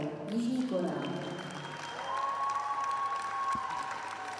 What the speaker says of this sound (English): So a warm cheer for another 13-year-old Min-kyu Seo